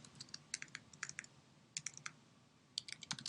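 Computer keys clatter in quick irregular bursts of light clicks, soft and close, with a short pause before the typing resumes.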